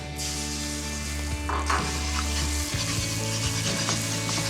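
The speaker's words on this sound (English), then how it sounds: "Whisk up the eggs. And give that a really good whisk." Eggs whisked in a hot stir-fry pan of chicken, broccoli and noodles, with a steady close sizzle and frying hiss under scraping stirring, no talk.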